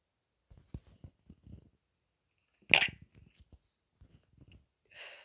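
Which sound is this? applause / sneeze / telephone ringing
sneeze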